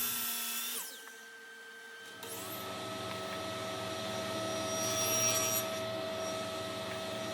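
A power tool cuts tenons on wooden bed rails. It starts with a low hum, then settles into a steady, loud machine whine with sustained tonal ringing that holds for several seconds, with no talking.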